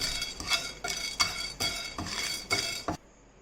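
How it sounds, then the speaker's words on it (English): Chana dal frying in a hot pan for sambar masala, with a spatula scraping and stirring in steady strokes over a soft sizzle, stopping abruptly near the end. "We will add chana dal. Let it fry for few seconds."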